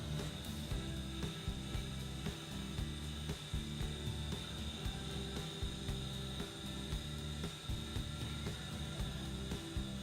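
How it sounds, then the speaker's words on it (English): Vehicle lift lowering a vehicle to the ground, a steady mechanical hum with a faint repeating ratcheting clatter throughout, fairly quiet and with no talk. "We can go ahead and hit lower, and we can lower our vehicle back to the ground."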